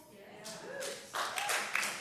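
Congregation clapping at a Sunday celebration service in a church, a brief burst of applause that swells in the second half, with speech-like tones faintly under it.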